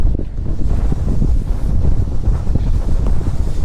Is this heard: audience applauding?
no